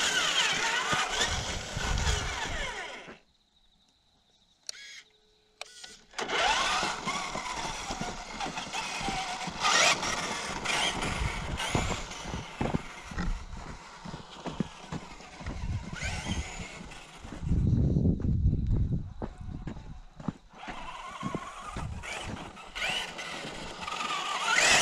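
Bronco crawler vehicle on solid tires driving and drifting in a backyard at night, a continuous buzzing motor whine that rises and falls with a short silent gap early on, close and fairly loud without talk.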